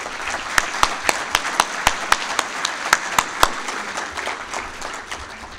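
Applause from an audience at an NHRA drag racing awards ceremony, a short burst of clapping with several sharp, prominent claps standing out before it gradually thins and fades.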